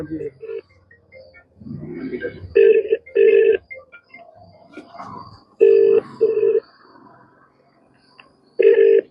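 An electronic telephone ring repeats in short paired bursts, several times with gaps between, while a person speaks nearby over the unanswered ringing of a flood control office line.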